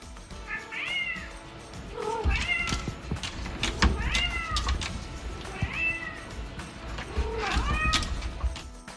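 A young kitten meows loudly and insistently, about five drawn-out rising-and-falling cries spaced a second or two apart, close up over faint household clatter.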